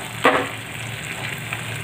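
Paneer bhurji cooking in a pan gives a steady soft frying sizzle, with a brief louder burst of crackle near the start, then an even hiss throughout.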